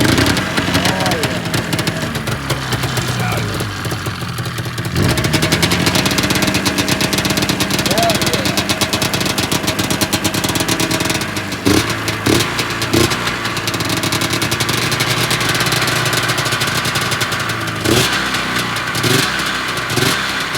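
Engine of an XC 500 old Iron Dog race sled starts and idles, a steady buzzing two-stroke drone with a few sharp ticks and pops, close by under people talking.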